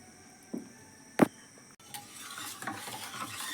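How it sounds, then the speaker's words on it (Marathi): Horse gram pithi stirred in a cooking pot with a utensil, a few scraping knocks followed by a soft, steady stirring and faint sizzle, close and alone with no talking. "नीट असा ढवळून घ्यायचा."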